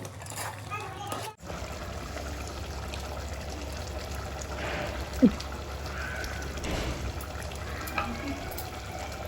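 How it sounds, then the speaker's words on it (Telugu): Water is poured a little at a time into a pot of cooking mutton curry, giving a soft, steady trickle under a constant low kitchen hum, with one brief clink partway through. "ఇప్పుడు వాటర్ పోసుకుంటున్నాను కొద్ది కొద్దిగా"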